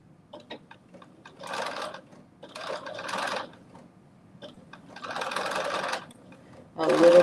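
A sewing machine back stitching a reversible bonnet runs in several short bursts of rapid stitching, separated by pauses with small clicks and handling noises, close and fairly loud.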